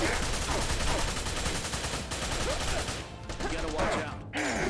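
Dense, continuous gunfire and bursts of automatic shots in the video game Wanted: Dead, with crackling impacts layered throughout and occasional voices shouting underneath.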